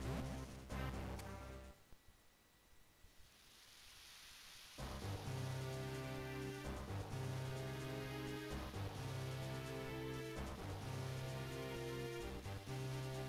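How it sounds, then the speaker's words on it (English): The rain theme from the video game A Link to the Past plays as synthesized music over a steady wash of rain and rumbling thunder. It cuts to near-silent rain for a few seconds, then the full music returns loud and continuous. "it is in fact the rain theme from A Link to the Past"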